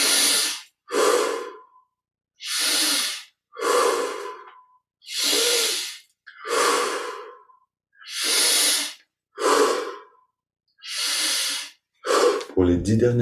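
Deep, slow breaths during a guided Kriya Yoga meditation, about ten long drawn inhales and exhales in a steady rhythm, close and loud, each separated by short silences.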